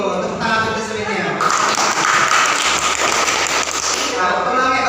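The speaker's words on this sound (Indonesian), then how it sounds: "Tepuk tangan untuk semuanya." Classroom applause from elementary school pupils, a dense burst of clapping that swells after the first second and holds for several seconds, loud and close, with a teacher's voice heard at the start.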